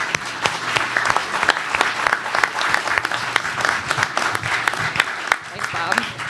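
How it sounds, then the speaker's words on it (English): Dense, loud applause from a panel discussion audience on a lakeside event day, steady clapping that fills the whole stretch with a faint murmur of voices underneath. "Can we give them a round of applause?"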